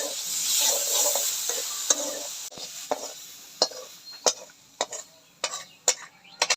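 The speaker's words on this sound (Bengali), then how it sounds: "সরষের তেলটা দিয়ে ভালো করে ভাজা ভাজা করে নেব।" Small shrimp being fried and stirred in mustard oil, a steady close sizzle overlaid with a series of sharp spoon-on-pan scrapes and clinks that grow more frequent toward the end.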